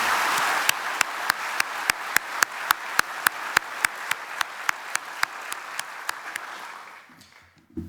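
Audience applause at a city's State of the City address honoring the assistant city manager and police chief, a steady wash of many hands clapping with sharp, evenly spaced louder claps cutting through before fading out.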